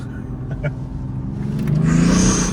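BMW 430d F32 with M package, diesel engine accelerating in sport mode, heard from inside the cabin as a low rumble rising in pitch and loudness, with brief voices early on.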